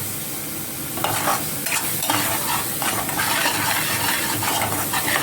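Masala paneer curry with crushed kasuri methi being stirred in a pan, a steady scraping and soft sizzle close up with no talking.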